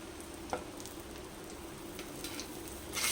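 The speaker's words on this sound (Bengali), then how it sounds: "ওই তেলের মধ্যে আমি কাশ্মীরি লঙ্কার গুঁড়োটা দিয়ে দিচ্ছি" Kashmiri chilli powder and spices sizzling in hot oil for a vegetarian potato curry, a faint, steady crackle with a few soft taps and a slight rise near the end, no voices.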